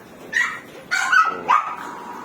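Three sharp dog barks in quick succession, close and loud, with short gaps between them.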